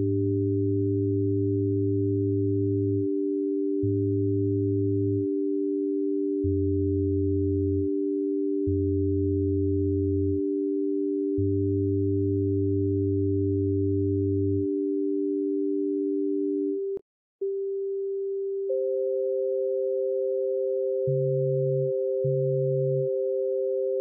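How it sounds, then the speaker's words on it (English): Two steady pure tones a half step apart sound together, and low pulsing tones start, stop and repeat against a sustained higher tone. A brief click comes before a slightly shifted pair of tones. "If we play a note a half step up, we should hear some beating from it."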